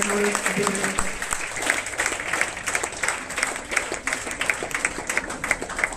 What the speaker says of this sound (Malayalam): അവൾക്ക് നമ്മൾ ഒരു നല്ല കൈയടി കൊടുക്കാൻ